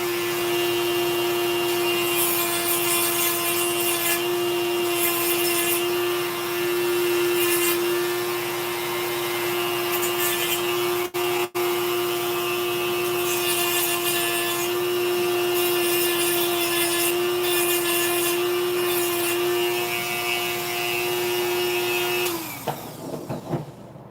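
A power tool grinds during the build of a 70mm EDF drone: a loud, steady, high whine with gritty noise runs almost unbroken for over twenty seconds, with one brief dip in the middle, then winds down and cuts off near the end.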